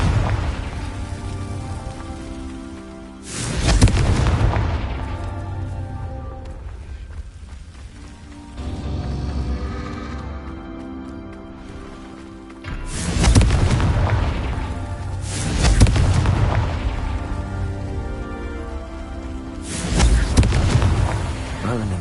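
Confringo blasting-spell explosions in a wizarding game, several heavy booming blasts spaced a few seconds apart, loud and close, each decaying into a rumbling tail over a steady rain-like background.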